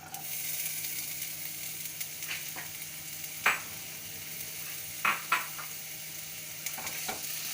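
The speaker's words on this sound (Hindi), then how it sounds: "ये ऑयल गर्म हो जाए तो आप इसमें 2 प्याज कटे हुए स्लाइस में" Two sliced onions fry in hot oil in a pan with a steady close sizzle, broken by a few sharp scraping stirs of a spoon against the pan.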